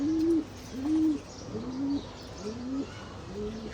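Domestic pigeons kept in a home loft coo in a steady series of about five low, rounded phrases, close and fairly loud, with nothing else competing.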